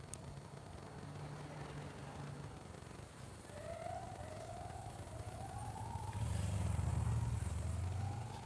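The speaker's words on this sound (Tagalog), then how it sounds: "Nangingay ng pulis yata yun." A police siren sweeps upward in repeated rising wails, starting midway and continuing to the end, fairly distant, over steady street noise and a vehicle rumble that swells near the end.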